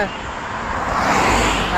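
A steady, continuous roar of cars passing on a road through forest on the way to Karwar, a close, loud rush of traffic noise that swells slightly toward the end.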